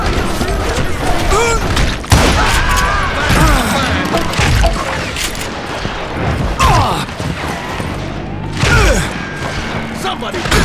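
Dynamite blasts in the western shooter Call of Juarez Gunslinger: loud, close, heavy booms and crashes with debris, several hits spread through the stretch, amid gunfire and a voice shouting.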